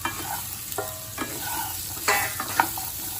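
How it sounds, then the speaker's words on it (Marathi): Chopped carrots with a little turmeric being sautéed in a pan, soft sizzling under intermittent spatula scrapes and stirring knocks, close up and brief, no talking. "आता जे गाजर चिरलेले होते तेही टाकून चांगले परतून"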